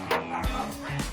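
A territorial dog at an abandoned-dog shelter barks in short, sharp bursts at someone approaching, with whimpery yips between them. It is close and fairly loud, and voices sound faintly in the background.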